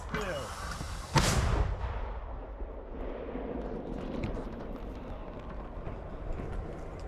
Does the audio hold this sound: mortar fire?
yes